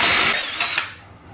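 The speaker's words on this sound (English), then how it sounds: "I was using a masonry concrete bit to do that." A power drill fitted with a masonry bit bores into concrete, a loud, dense grinding whine that holds steady and then tapers off near the end of the short burst.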